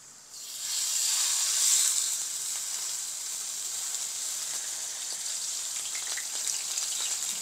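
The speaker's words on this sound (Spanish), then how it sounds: "Voy a aprovechar la sartén donde suavicé las zanahorias para poner los rollitos." Vegetable-filled rolls set into a pan previously used to soften carrots, sizzling with a bright hissing fry that swells loud as they go in, then settles into a steady crackle, close by and without voices.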